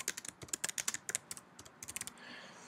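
Fingers type a short sentence on a computer keyboard in a minimalist notes app, with quick, close, crisp key clicks in uneven bursts and a brief pause midway, no talking.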